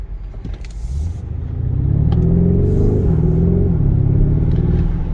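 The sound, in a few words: Lamborghini Urus SUV accelerating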